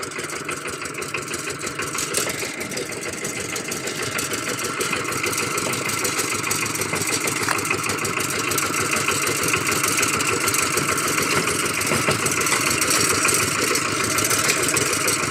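A farm tractor's engine idles steadily and close by for the whole stretch, a continuous low, rough running drone with a faint knocking texture and no words spoken.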